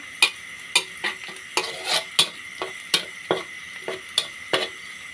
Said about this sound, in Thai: เจียวให้กระเทียมเหลืองเลยนะคะ